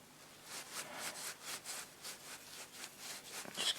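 A screwdriver scrapes solidified old grease off a turntable mechanism in a tabletop radiogram, giving a series of quiet, rhythmic rasping strokes, close by with no talk.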